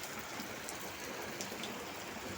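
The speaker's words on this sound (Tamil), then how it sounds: "மழை நல்லா பெய்யுதுல" Heavy rain pours down steadily in a dense, even hiss, with scattered drops standing out against the constant wash and no voices.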